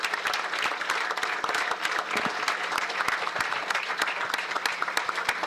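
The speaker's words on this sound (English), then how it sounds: "So just a round of applause for the whole organization." Audience applause for a hockey organization at a community event, a steady dense wash of clapping lasting throughout at moderate level, with no voices over it.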